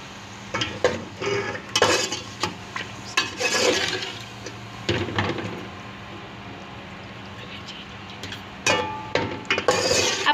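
Marinated chicken fries in a pan, with irregular scraping and stirring clatter from a utensil over a soft sizzle, close by and moderately quiet, pausing briefly midway.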